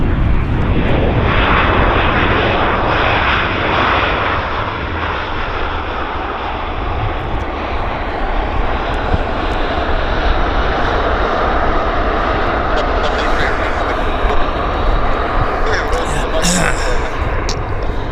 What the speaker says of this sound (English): We got a Q400 on approach.